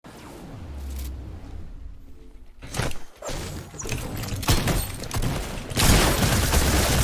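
Shotgun blasts from a video game, several heavy booming shots spaced irregularly and growing louder and denser toward the end, amid other clattering action.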